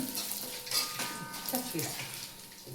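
Dried red chilies frying in oil in a pan while cooking jackfruit rice, a steady crackling sizzle with stirring and a few metal clinks, close by and under a speaking voice.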